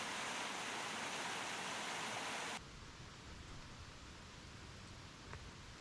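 A stream flows through Welsh countryside on the Llanfendigaid Estate, giving a steady, soft broadband rush of water that drops suddenly to a quieter, more distant wash partway through.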